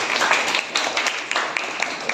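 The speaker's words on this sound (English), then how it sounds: "So just give him a good round of applause" A school debate audience gives a round of applause for the judge, a librarian. The dense, steady clapping is fairly loud and close, continuing without a break for a couple of seconds with no clear talk over it.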